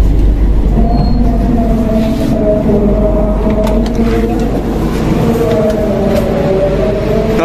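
A Jayakarta passenger train arrives at Solo Balapan station in Indonesia, a steady loud rumble of rolling carriages with rising and falling wheel squeal tones running throughout, no voices.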